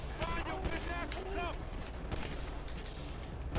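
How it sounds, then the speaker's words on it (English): Gunfire from a GTA V video game, a quick burst of several sharp shots early on followed by scattered further pops over a continuous game soundscape. "I shot that dead guy again"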